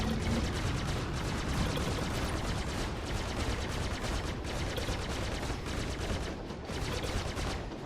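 Rapid sustained spaceship weapon fire in Star Citizen, a Mustang Alpha fighting a Vanduul swarm, a dense continuous rattle of shots filling the whole stretch at steady loudness with no talk.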